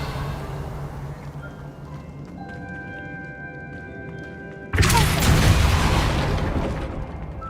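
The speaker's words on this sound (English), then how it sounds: "Revelio." In Hogwarts Legacy, a quiet magical shimmer of soft tones gives way to a sudden loud whooshing burst as the Revelio spell is cast, fading slowly afterward.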